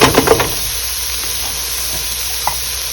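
Onions and celery cooking in melted butter in a pan for Thanksgiving stuffing, with a few sharp sizzling bursts as they go in, then a steady low hiss that continues with a faint clink near the end.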